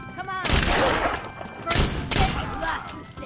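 Pistol gunfire in Fallout 4, several sharp loud shots in quick bursts with ringing tails, layered over game noise and someone talking.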